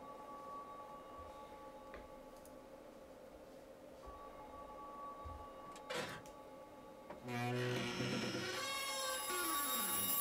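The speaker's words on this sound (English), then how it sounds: "It's the other locker that's ringing." Inside a locker in Silent Hill 4, a telephone rings faintly at first and then grows loud and close near the end, its repeated electronic bell tones coming over a quiet background hum.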